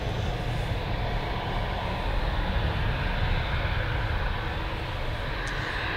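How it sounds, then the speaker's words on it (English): A Boeing 787 Dreamliner holds on the runway at Manchester Airport, its engines giving a steady, loud broadband roar with a deep rumble that stays constant throughout, no voices over it. "Right, so the Dreamliner is now lined up,"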